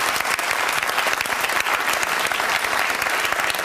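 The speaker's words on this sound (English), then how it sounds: "Can you all applaud each other for a pretty civilised affair?" A television studio audience at a debate show applauds, dense continuous clapping from many hands filling the room evenly throughout.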